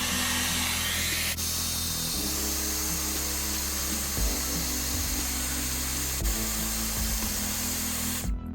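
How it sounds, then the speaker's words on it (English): A steady, loud blowing whir with a motor hum from a hair dryer heating the bottom edge of a phone holds throughout, shifting pitch slightly a few times before cutting off at the end. "Use a hairdryer to heat the bottom edge of the iPhone for approximately 1 minute"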